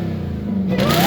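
A supercharged Camaro engine revs up smoothly, a steady low drone building toward a rising higher whine near the end, close and fairly loud with no talking.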